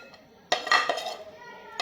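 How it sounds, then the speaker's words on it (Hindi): Chopped cabbage and onion dropped into a bowl while making a burger filling: a sudden clattering knock and clink of the bowl, then a brief rustling settle and a final light tap. "ये जी दोनों चीज़ें मैं डालूंगी एक बाउल में।"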